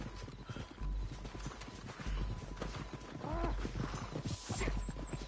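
Horse hooves clip-clopping in the Western video game Red Dead Redemption 2, a quick steady rhythm of close hoofbeats over game ambience, with a brief whinny and faint background voices.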